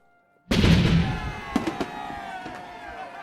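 Cannon fire from a historical river procession of barges heading to Westminster: a sudden heavy boom opens loudly after brief silence, followed by further thumping reports and a long fading rumble.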